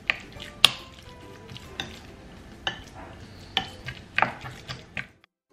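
Rice being mixed with soy sauce in a bowl for onigiri, with soft repeated scraping and stirring and several sharp utensil clicks against the dish at an uneven rhythm, close and fairly quiet.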